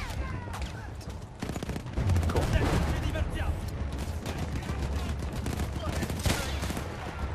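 Gunfire in the Battlefield 1 war game, with sharp shots and bursts that crack repeatedly over a dense battlefield roar of explosions and ambient noise, loud and close throughout.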